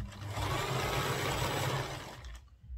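A sewing machine stitches down a seam on a fish-style skirt, a steady close mechanical whir running for over two seconds before stopping abruptly, followed by a soft low thump.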